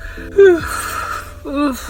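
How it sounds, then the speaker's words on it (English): A person lets out a drawn-out, voiced yawn that rises and falls, followed by a second shorter yawning sound. "yes, that was a yawn"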